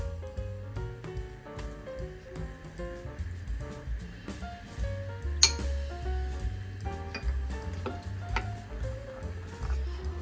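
Spicy Korean noodle sauce stirred and mixed in a bowl, with steady clinking and scraping of a utensil against the dish in a close, repeated rhythm, alone without talk.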